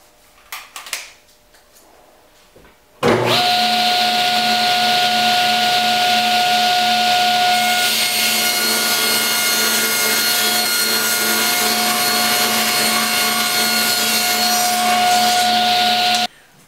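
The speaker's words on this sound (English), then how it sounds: "Now I'll rip the 1 inch pieces on my table saw." A table saw spins up and rips steadily through 1x6 wood boards, a loud continuous whine with a high tonal hum lasting over ten seconds before cutting off.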